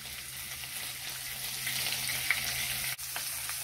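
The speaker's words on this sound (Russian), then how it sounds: "Их нужно сначала взять и обжарить. Несколько минут обжарить." Veal bones with meat browning in a hot pan for a noodle soup, giving a steady, close, continuous sizzle and crackle with a few brief pops and no talking.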